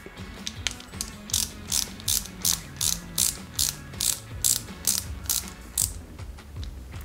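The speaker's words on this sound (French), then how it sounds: "on va installer ces deux pièces entre elles tout simplement à l'aide d'une vis" A small screw is driven to join two parts of a Porsche 917KH model car kit, giving a steady series of about a dozen short, rhythmic ratcheting clicks, fairly quiet and close.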